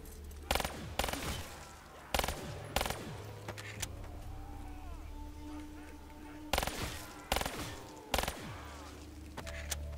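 Bursts of MR6 pistol fire from Call of Duty zombies on Der Eisendrache, several sharp shots scattered across the span between quieter game ambience and low rumble.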